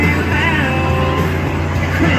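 A school bus engine roars steadily during a figure-8 demolition derby race, loud and close, holding a sustained droning tone as it speeds down the straightaway.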